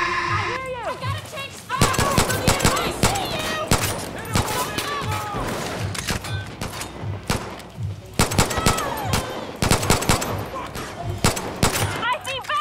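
Gunfire in Far Cry New Dawn cracks in rapid, uneven volleys of loud shots, with players talking and exclaiming throughout.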